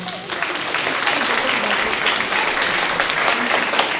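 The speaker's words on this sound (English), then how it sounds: "Just give yourselves a round of applause." An audience at a school music ensembles' final concert applauds steadily, a dense wash of clapping that holds for several seconds, with scattered voices mixed in.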